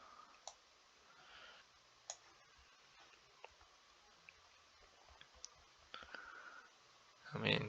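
Sparse, faint computer mouse clicks while working in the Onshape CAD program, isolated single taps spaced seconds apart in a quiet room, with a brief louder rustle at the very end.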